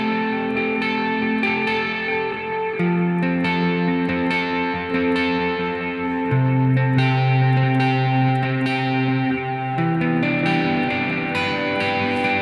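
Clean electric guitar picks out a flowing arpeggiated pattern, notes ringing into each other with chorus-like shimmer and some echo, steady and fairly loud.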